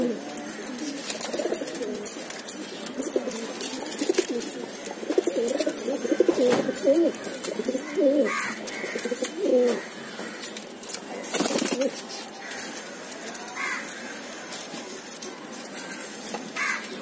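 Borderwale pigeons in a loft coo softly and steadily, with a few sharper bird calls and occasional clatter, under scattered low talk.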